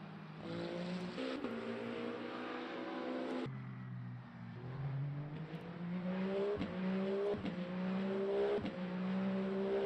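A hypercar engine in the racing game Le Mans Ultimate drones continuously while coasting, with shifting tone, dropping in pitch and then climbing again in rising sweeps, steady and moderately loud with no voices.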